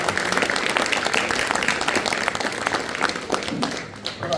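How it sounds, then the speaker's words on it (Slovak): An audience at a live band concert in a Slovak village applauds steadily and loudly throughout, a dense wash of clapping from a crowd heard at close range. "Veľký potlesk, on tu hosťuje"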